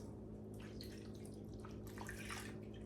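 Water pours steadily into a slow cooker along the edges, with a soft splashing trickle over a constant low hum, fairly close and quiet.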